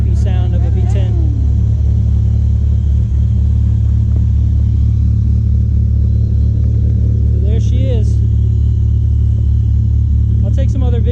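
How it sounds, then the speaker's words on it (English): A 1997 Dodge Viper GTS V10 engine idles with a constant, loud, low lopey rumble, while someone talks over it in short bursts. "I personally, and I think a lot of others, prefer the nice lopey sound of a V10."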